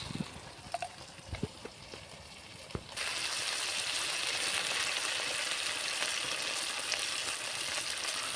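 Mustard seeds with ginger and garlic hitting hot oil in a pan while cooking a Bengali gourd and crab dish: a few taps and clinks, then a sudden loud, steady sizzle that fills the rest.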